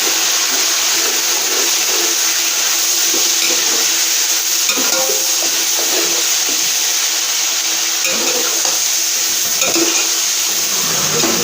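Marinated chicken pieces frying for a restaurant-style white chicken pulao, a loud, continuous close-up sizzle with intermittent stirring clatter throughout and no talking.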